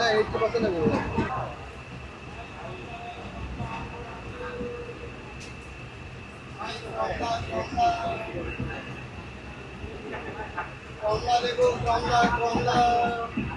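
A passenger train in northern Bangladesh, after Domar station, rumbles steadily along with a constant hum and rattling, while people talk in bursts over the running noise.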